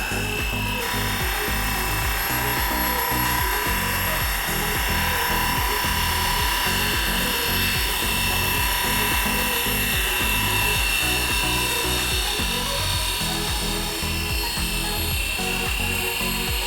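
A large Fly Wing FW450L V3 RC helicopter flies over snow, its steady rotor drone and motor whine sustained and loud throughout with a faint mechanical buzz on top.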